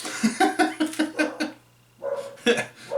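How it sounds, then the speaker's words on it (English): A dog barks at a squirrel in a rapid run of sharp, close barks, then breaks off briefly before a few more yips and barks. "dog found a squirrel."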